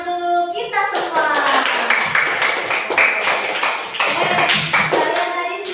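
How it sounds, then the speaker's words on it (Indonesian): Students in a classroom clap together, a dense burst of hand claps over a faint ringing tone that fades near the start, with a voice briefly in the mix. "Beri tepuk tangan untuk kita semua."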